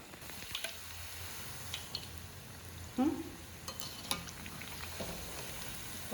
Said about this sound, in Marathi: तळून घ्यायचं जरा सेट व्हायला द्यायचं खाली कढईला चिकट टाकते तर त्यांना असं जरा जरा मध्ये मध्ये फक्त हलवायचं